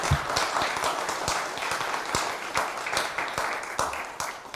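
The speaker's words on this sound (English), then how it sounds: "I would say big clap to the panelists." An audience applauds panelists at a sanitation and public health side event, a sustained, dense burst of clapping from a room of people that fills the whole stretch at moderate distance.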